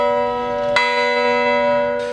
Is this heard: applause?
no